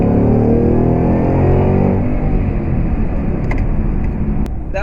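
A 2014 Shelby GT500 accelerating hard from low speed, its loud engine roar climbing steadily in pitch and then breaking into a denser rumble as it pulls through the gear, recorded close with no talk.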